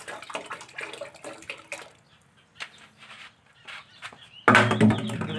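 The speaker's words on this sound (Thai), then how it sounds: "ก็เอามาหดน้ำด้วยน้ำจุลซีสะกอแสงนะครับผสมกับน้ำนะครับ" Seedling potting mix is watered with a diluted microbial solution, a loud splashing pour arriving near the end after quieter rustling and handling noises.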